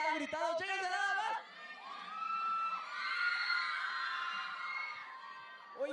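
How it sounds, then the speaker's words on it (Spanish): Fans scream and cheer in a loud crowd at the Tu Awards 2017 awards show, with high shrieks and whoops that swell and fade after a voice speaks at the start. "Todos los fans están aquí presentes, muy emocionados y estamos felices. El apoyo de la gente es impresionante, toda la banda está gritando."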